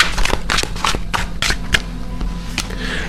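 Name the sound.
oracle card deck being shuffled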